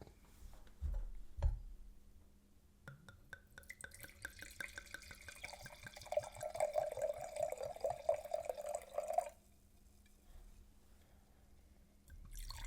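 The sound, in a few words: wine being poured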